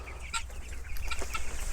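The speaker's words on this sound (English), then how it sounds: "As you can see, pretty healthy broilers in here." Broiler chickens recently moved out of a brooder into an outdoor pen cluck in short, close bursts over a steady low background rumble.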